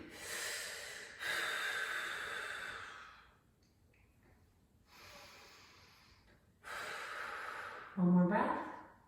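Slow, deep breaths held during a yoga hip stretch: long, audible inhales and exhales near the microphone with quiet gaps, ending in a louder voiced sigh.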